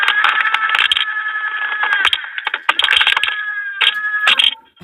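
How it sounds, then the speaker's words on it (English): An automatic pet feeder from a Temu haul dispenses food, with near, steady mechanical rattling and clinking running throughout, broken by scattered sharp clicks and knocks before stopping abruptly at the end. "There's a feed button here, and you'll hear it clinking over."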